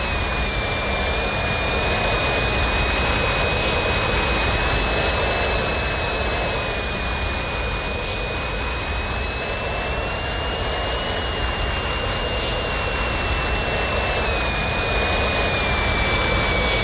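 A jet engine runs in the RealFlight 5.5 flight simulator game, producing a loud, steady roar with a sustained high whine that holds unbroken throughout.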